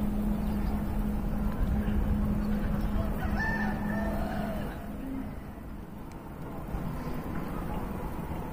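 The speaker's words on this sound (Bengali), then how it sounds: "মুরগি আমরা দেখি উঠে খাইতেছে বাড়িতে" Chickens at a rural Bangladeshi home, with a clucking call and a rooster-like cry rising over a continuous low background rumble, moderately near, fading slightly partway through.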